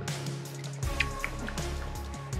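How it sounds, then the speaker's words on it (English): Distillate drips from a still during a batch of Old Bay spiced vodka, small irregular droplet plinks over a steady hum of running equipment. "We're up and running, we've got first drips."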